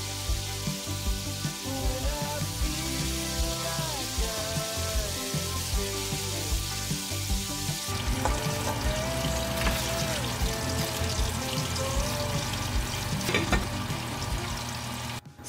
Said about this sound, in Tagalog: While dito tayo magpa-fry ng pork.